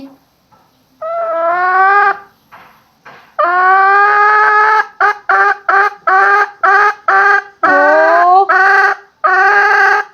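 A hen calls loudly up close in a run of drawn-out, nasal squawking clucks, repeated in choppy bursts with brief gaps between.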